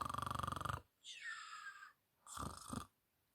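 A storyteller imitates the devil snoring, first a rapid rattling snore, then a drawn-out whistling breath and another rough snore, close and alone.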